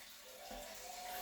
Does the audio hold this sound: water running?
yes